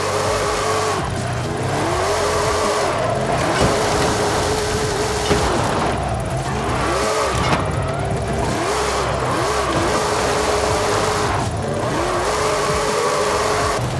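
A Ford F-450 truck drifting in Forza Horizon 5, its engine revving in repeated rising and falling sweeps with tire squeal, loud and close, cycling every couple of seconds with no voices.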